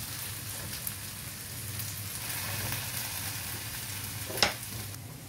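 Potatoes and beans cooking in oil in a pot make a steady, soft sizzle and crackle that runs throughout, with one brief louder clink near the end.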